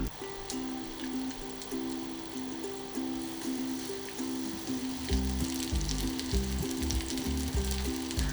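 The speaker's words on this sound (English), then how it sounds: "Put the lid on and cook it for about 4 to 5 minutes on both sides over medium-low heat." Shiso tsukune meatballs sizzle in a covered frying pan, a steady crackle that runs throughout, with a low droning hum beneath that grows louder partway through.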